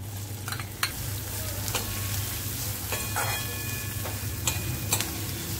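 Chopped onion sizzles steadily in hot oil in a pan for a dried-shrimp (javla) and field-bean dish, a continuous close frying hiss with a few light clicks of a utensil on the pan.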